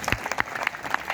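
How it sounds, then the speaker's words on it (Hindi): Brief scattered applause from an audience at a Vedic religious talk, a handful of sharp claps standing out over a soft background, fairly close and without talk. "तालियां बजाओ भाई इनके लिए।"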